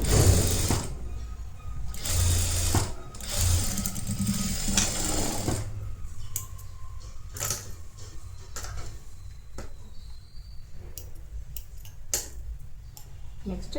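A sewing machine stitching a netted blouse runs in short bursts, with rapid mechanical whirring and ticking, pauses and small clicks between runs, heard fairly close and moderately quiet.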